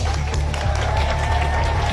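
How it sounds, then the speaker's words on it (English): Steady crowd applause with some cheering fills the space, a dense continuous clapping roar at an event celebrating children who got their vaccination shots, lasting the whole stretch without a break. "Let's give a round of applause to all the brave kids here who got their shots"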